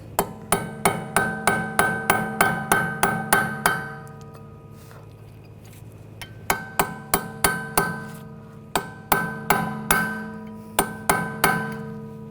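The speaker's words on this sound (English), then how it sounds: "I'm just going to take a punch, just give it a tap, make sure the axle is loose from the hub." Rapid steady hammer blows on a punch against a Buick Encore rear CV axle and hub ring out as sharp metallic strikes, a quick run, a pause, then a second series of taps.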